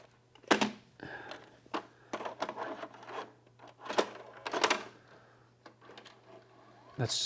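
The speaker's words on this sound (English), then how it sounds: "Let's power this on. Let's put in a tape." A VCR takes in a VHS tape at close range with a series of faint mechanical clicks, rubs and whirring clunks, plus a sharp clack near the end, over a low steady hum.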